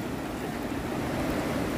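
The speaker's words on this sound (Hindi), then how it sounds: "बहुत डरावना पानी है।" Floodwater rushing through a washed-out campsite at Maibang in Dima Hasao, where a shop and a stage were swept away, sounding as a loud, steady, broadband roar that continues unbroken throughout, with no talking.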